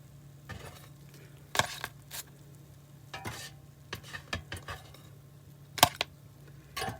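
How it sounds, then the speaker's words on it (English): Crab rangoons frying in a pan in an RV kitchen, giving a faint, steady sizzle under a low hum, broken by several sharp clinks and scrapes of stirring utensils against cookware. "Nice and sizzling."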